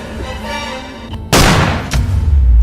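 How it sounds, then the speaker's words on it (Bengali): A loud gunshot bursts out in a Bangla horror cartoon set in the Sundarbans, a sharp blast followed by a second report and rumbling low-end echo, heard alone without speech. "এবার আর আমার গুলি মিস হবে না"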